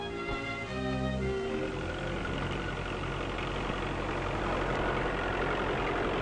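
A tractor engine drawing a plough in a 1943 film drones steadily and loudly throughout, with a low mechanical rumble and no pauses.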